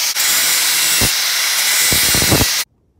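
An angle grinder cuts a bevel edge into cut sheet metal on a 1955 Chevy truck, giving a loud, steady, close hiss with a few sharper bursts before it stops abruptly.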